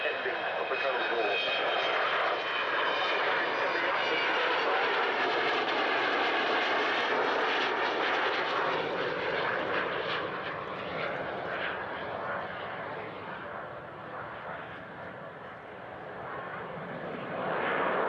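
A Vulcan jet bomber roars loudly overhead, its engines producing a sustained high whistling drone that slowly fades and shifts before swelling again.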